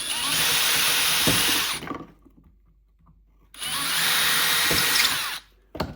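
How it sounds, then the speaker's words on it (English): A power drill whines as it bores through a wooden duck decoy in two loud bursts of nearly two seconds each, separated by a short quiet pause. "I'm just going to do a quick drill through"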